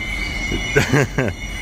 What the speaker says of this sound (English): We've just got the 2-car Midland train coming in.